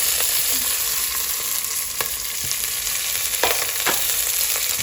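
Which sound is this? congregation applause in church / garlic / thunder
garlic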